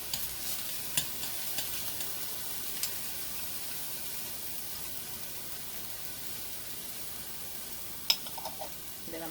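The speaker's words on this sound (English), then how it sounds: "So my skillet should be already hot, ready to rock and roll. And I like a lot of garlic. So I'm going to put some garlic in there." Minced garlic fries in a hot skillet with oil, giving a faint continuous hiss and a few small pops and clicks over a quiet kitchen, with no one talking.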